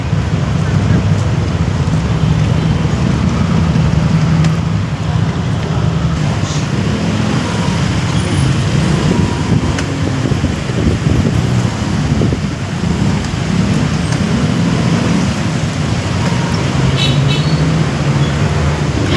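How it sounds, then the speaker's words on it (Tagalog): Heavy road traffic on Meralco Avenue, a steady dense roar of engines and tyres close by, with wind buffeting throughout and no clear break in the noise. "sobrang traffic dito sa Meralco Avenue"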